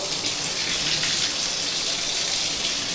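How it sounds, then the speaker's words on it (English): Cold water gushes steadily from a household tap during a water-heater setup, a continuous broadband rush holding even and loud for the whole stretch with no talk over it. "Got the cold water running."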